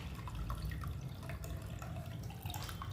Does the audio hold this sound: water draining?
yes